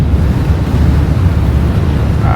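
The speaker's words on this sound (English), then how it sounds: "It's just pounding in from the ocean here." Ocean waves pound in during an Arctic blizzard, making a loud, steady, low roar mixed with heavy wind buffeting the microphone and no break through the whole stretch.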